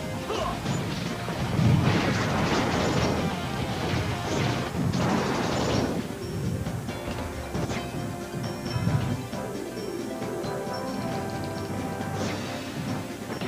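A smart bomb explosion in Super Smash Bros. Brawl: a loud crashing blast followed by a stretch of rumbling impacts and smashing game effects over background game music.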